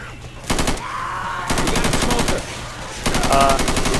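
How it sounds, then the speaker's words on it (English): Rapid automatic gunfire from a video game battle against a tank, in loud sustained bursts with brief pauses between them, and no talk over the shooting. "Everyone shoot the tank!"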